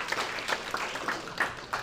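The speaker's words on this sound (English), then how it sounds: "Round of applause for camera roll" Audience applause at a San Francisco tech demo night during SF Tech Week, a steady wash of many hands clapping through the whole stretch with brief louder swells, no voices over it.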